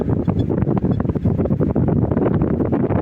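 Heavy wind buffets the microphone with loud, continuous low rumbling and gusty thumps throughout.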